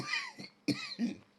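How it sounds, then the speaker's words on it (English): Several short, dry coughs from a commentator during a Bannerlord dueling championship broadcast, close to the microphone, in quick uneven bursts. "for me to stop coughing"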